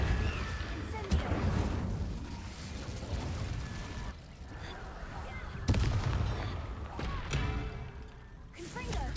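A fire spell going off in Hogwarts Legacy, heard as a few sharp, punchy cracks spaced several seconds apart over a constant busy bed of game battle noise.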